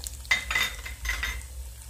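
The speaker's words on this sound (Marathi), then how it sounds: "आणि हिरवी मिरची छान परतून घ्यायचं।" Green chillies with peanuts, cashews, sesame, chana dal, mustard seeds and cumin sautéed in a pan, short bursts of sizzle and a few metallic scrapes of a spoon over a low hum.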